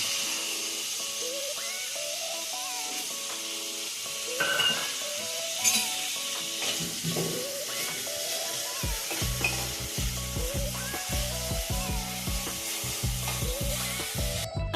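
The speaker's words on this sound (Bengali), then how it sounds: "গাজর আলুটা মোটামুটি ভাজা হয়ে গেছে" Carrot and potato pieces fry in a pan with a soft, steady sizzle, then a spatula begins stirring in regular scraping strokes over the hiss in the second half, close by with no voices.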